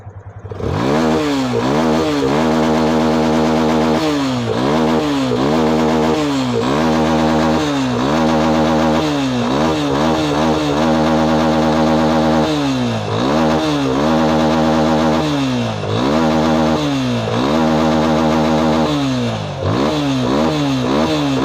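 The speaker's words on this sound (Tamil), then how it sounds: "வண்டி செம்மையாக ரைஸ் ஆகுது" A fuel-injected motorcycle engine is revved again and again in a workshop, each throttle blip climbing then falling back to a rough idle. The rhythm is loud, close and continuous for the whole clip.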